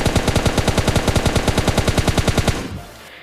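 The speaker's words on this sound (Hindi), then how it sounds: "आगे जाने के बाद भाई मुझे सामने से फायर की आवाज़ आई" Rapid automatic gunfire in the mobile battle-royale game PUBG Mobile Lite, a steady burst of roughly thirty evenly spaced shots over two and a half seconds, then a fading tail.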